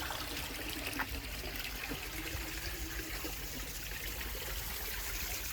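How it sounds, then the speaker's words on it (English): Water running as decoration at a building on the Conrad Weiser Homestead, a faint steady trickle and splash under broadband outdoor noise, continuous with no voices. "They might just have this water running for like decoration"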